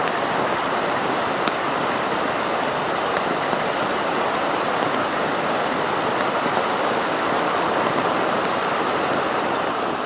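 Water runs steadily down a restored stream, a dense, even rushing wash that stays close and unbroken throughout with no voices.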